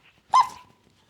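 A person imitates a dog, giving one short, loud bark up close that trails off, followed by silence and a sharp click.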